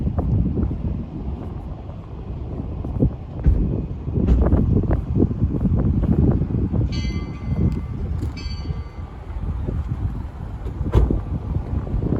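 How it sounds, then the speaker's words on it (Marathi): Steady cold wind rushes and buffets outdoors at a building near the Aqua-Line bridge and tunnel in Japan, a low continuous roar with occasional gusts and faint distant clatter. "खूपच गार वारा सुटले."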